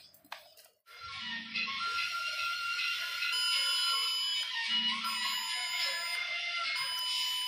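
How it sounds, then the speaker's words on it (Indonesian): A laptop powered on without its cooling fan sounds a continuous shrill electronic error alarm, steady and fairly close, following a brief click at the start. "Itu bunyi beep karena nggak ada fan-nya ya."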